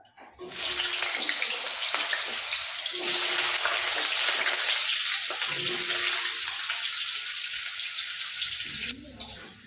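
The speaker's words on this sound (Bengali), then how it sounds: "এই তেলে আমি এখন আলুটা ভেজে নেব" Potatoes frying in oil make a loud, continuous hissing sizzle that swells in and holds steady, easing slightly toward the end; a faint voice murmurs underneath.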